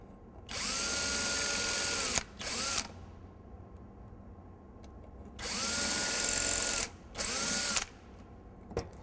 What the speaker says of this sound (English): drill out these two holes